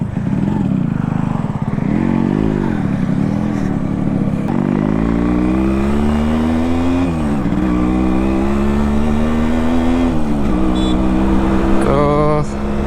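An old Yamaha RX-S115 motorcycle, about thirty years old and kick-started, runs close by with a steady engine note that rises and falls as it is revved several times, loud and alone.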